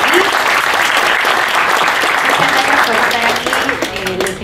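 Sustained applause from an audience at a startup pitch panel event in Peru, dense and steady clapping throughout, loud and close, tapering slightly near the end.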